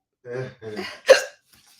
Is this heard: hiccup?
yes